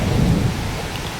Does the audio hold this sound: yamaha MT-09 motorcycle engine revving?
no